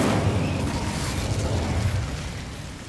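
A wizard casts the Incendio fire spell in Hogwarts Legacy, and a loud, close, fiery burst erupts at once before fading into a roaring whoosh.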